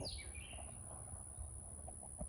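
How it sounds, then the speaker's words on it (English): Chickens cluck and call softly at a distance, a few scattered bursts over faint outdoor background. "My chickens are making so much noise."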